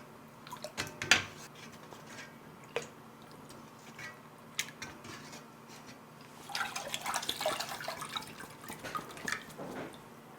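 Barley husks being strained from sikhye through a fine sieve, with scattered drips and splashes of liquid that build into a steadier trickle and pour toward the end, close by and without speech.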